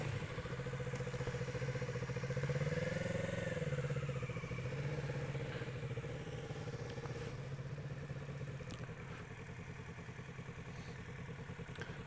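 A motorcycle turns slowly around during a U-turn lesson, its engine idling and puttering steadily at low revs with a slight swell partway through, close and continuous, with no talking.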